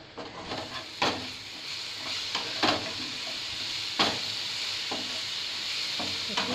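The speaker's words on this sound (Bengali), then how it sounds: "একটু নাড়াচাড়া করে নিচ্ছি যাতে কড়ার তলায় লেগে না যায়।" Okra shallow-frying in a little oil in a kadai sizzles steadily, broken by repeated scraping knocks as a spatula stirs the pieces around the pan; no talking.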